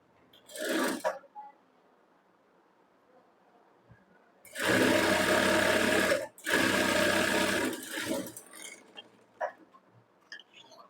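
A sewing machine stitches a folded strip on a blouse in two long, loud bursts separated by a brief pause, with shorter machine sounds before and after.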